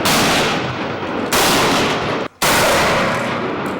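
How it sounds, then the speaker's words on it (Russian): Loud, dense gunfire as fighters at a training session shoot pistols and automatic weapons at various distances, sustained bursts with a brief gap near the end before firing resumes. "Бойцы демонстрируют способы ведения стрельбы на различных дистанциях из пистолетов и автоматического оружия."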